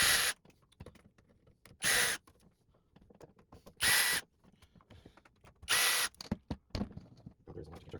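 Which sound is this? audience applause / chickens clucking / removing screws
removing screws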